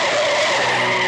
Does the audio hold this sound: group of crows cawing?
no